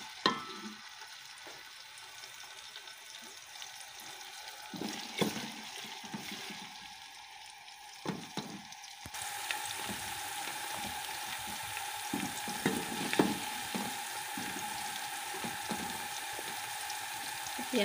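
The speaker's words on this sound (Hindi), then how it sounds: "प्याज और अदरक लहसुन भून गए हैं।" Onion with ginger-garlic paste frying in a pan, a steady soft sizzle with bursts of stirring and scraping, close but fairly quiet, growing a bit louder and busier partway through, with no voices.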